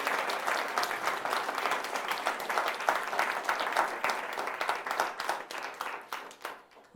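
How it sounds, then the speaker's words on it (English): Applause from the audience at a storytelling and card magic performance, lively clapping that stays strong throughout and thins slightly toward the end. "could everybody please give her a huge round of applause?"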